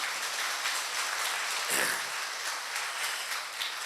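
A small audience at a weekend sleep wellness workshop in Chennai claps in thanks, a soft, fairly distant patter of hands holding steady with a brief louder burst midway.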